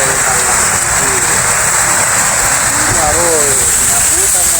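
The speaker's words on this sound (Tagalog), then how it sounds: "nabutan na ng ulan." Heavy rain pours down in a constant loud hiss, while a person talks over it throughout, close to the microphone.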